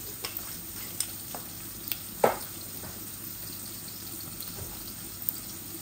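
A few cumin seeds dropped into hot cooking oil, giving a quiet, steady sizzle with scattered small pops and one brief louder crackle, close but faint.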